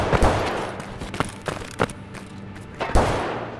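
Gunfire in the shooter game Escape from Tarkov: several sharp, booming shots and thuds scattered irregularly over a dense, noisy background, some close and loud, others softer.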